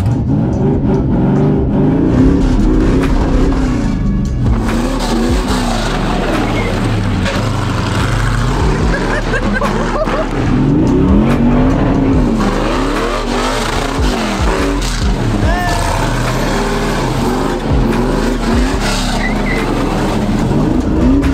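A loud supercharged car engine revs and roars continuously with a raw, open exhaust, pitch sweeping up and down through repeated throttle blips, steady and close.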